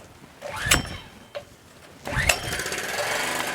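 A rusty Homelite Powermate 79cc gas lawn edger revved to full throttle: a couple of sharp clanks, then a loud, rough, buzzing engine roar that kicks in and holds steady to the end.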